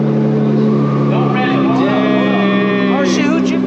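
A Nissan GT-R engine gives a little rev, a loud steady idle that swells into a rising, sweeping rev with whining harmonics, up close throughout.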